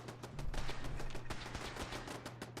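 Automated turrets in Fallout 4 fire a rapid, continuous burst of gunshots, sharp repeated cracks at an uneven rhythm with low game music beneath.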